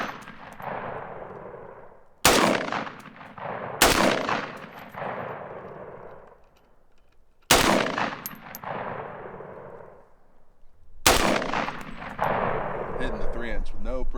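Four or five loud, sharp rifle shots of 7.62 rounds fired at targets 25 yards away, spaced irregularly, each with a sustained ringing echo trailing off between them.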